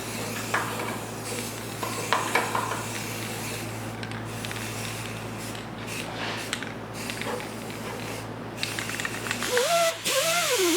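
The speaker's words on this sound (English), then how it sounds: "I'm just gonna spray some primer inside" Hissing bursts from a spray can of primer sprayed inside a 1972 Triumph GT6 frame, several short sprays at moderate volume, ending with a faint squeaky sound.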